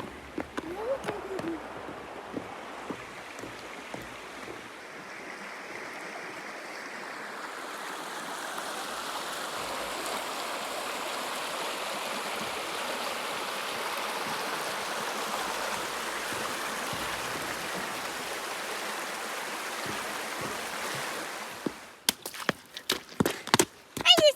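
River rushing past the old low water bridge in Cossatot State Park, Arkansas, a steady broadband wash of flowing water that builds and holds, then cuts off into scattered clatter near the end.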